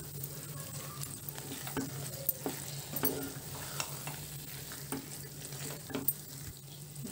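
Carrot halwa with cashews and raisins being stirred in a pan, a steady scraping and clinking of the spoon against the vessel under a continuous low sizzle of ghee, with no voices.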